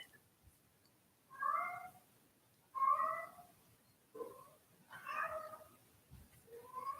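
A cat meows loudly and insistently indoors, with five drawn-out yowls spaced a second or so apart against a quiet room.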